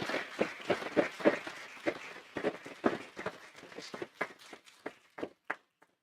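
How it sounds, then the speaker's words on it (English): Audience applause at a school district governing board meeting, a modest scattering of individual claps from a small room that thins out toward the end, with faint voices underneath. "let's give her a round of applause"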